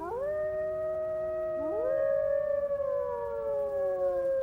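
Several wolves from a pack howl together in long, sustained, overlapping tones, one voice joining after another and holding the pitch at moderate distance.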